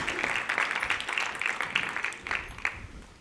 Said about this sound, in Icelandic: gott klapp og bjóðum hann velkominn á svið.